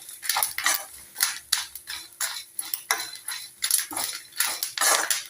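Curry leaves and red chillies roasting in a pan while a metal utensil stirs them, making rhythmic scraping and clinking strokes against the pan, close and fairly loud, with no talking.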